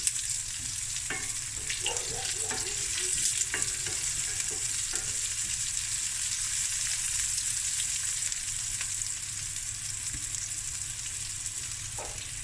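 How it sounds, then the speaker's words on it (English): Thinly sliced shallots and a star anise fry in a pot, giving a steady, even sizzle with occasional soft stirring scrapes and knocks throughout, with no talking over it. "I'm going to add 2 shallots, just thinly sliced. We're going to give this a stir."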